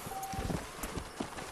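Horse hooves clip-clop in the Red Dead Redemption video game, a quick irregular run of soft thuds at moderate distance, with a faint steady tone in the background.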